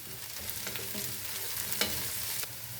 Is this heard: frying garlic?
yes